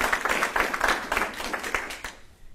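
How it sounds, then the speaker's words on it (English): Applause rings out at a military promotion ceremony, a steady burst of many hands clapping from a crowd that holds for about two seconds and then fades out. "how about a round of applause for Doug's mom?"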